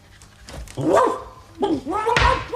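A comedian giving a lecture on visual comedy makes a vocal imitation of a dog eating and panting: a few short, close, loud, voiced bursts of huffs and gulps separated by brief pauses.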